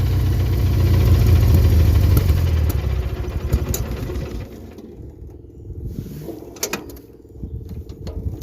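An old tractor engine idling, a low mid-pitched rumble that fades somewhat after the first few seconds and continues unevenly, with faint background sounds and no talk.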